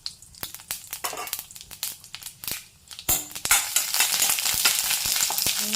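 Whole spices (bay leaf, cinnamon, cloves, cardamom, fennel seeds) frying in a pan while being stirred: sharp crackles and spatula clicks, then a louder, denser sizzle after a scrape midway, with no talking.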